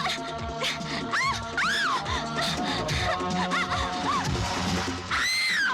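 A woman screams in a Hindi action film scene. Shrill, wavering cries rise and fall over a dense mix of dramatic music and commotion, loud and close throughout.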